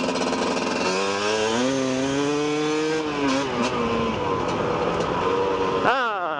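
A KTM 250 EXC enduro motorcycle on a dirt trail, its engine revving loud and close with rising and falling pitch as it works through the gears, ending in a sharp rev.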